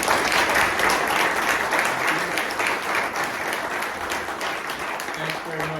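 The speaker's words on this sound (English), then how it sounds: "Let's give a round of applause" An audience in a room of veterans applauds, sustained clapping from a crowd that stays fairly even and slowly tapers over several seconds, with no voices rising above it.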